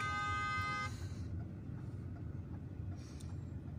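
A car horn blares loud and steady for just under a second over the low rumble of congested street traffic, followed by a fainter, shorter honk from a distance as engines keep droning.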